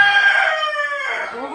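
A local rooster lets out a single loud, close crow, a long strained call that rises and then trails off.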